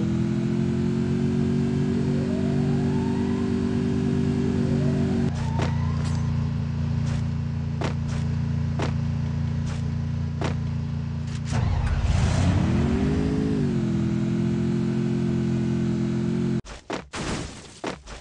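Vehicle engine in Free Fire, a loud continuous droning hum that holds steady, drops in pitch, then swells and revs again before cutting out near the end, with sharp gunshot cracks scattered over it.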